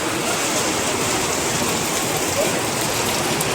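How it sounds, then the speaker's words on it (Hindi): Heavy rain pours steadily near a hotel terrace in Rishikesh, a loud, unbroken hiss of dense rainfall with no other sounds standing out. "बहुत ही ज़्यादा बारिश हो रही है।"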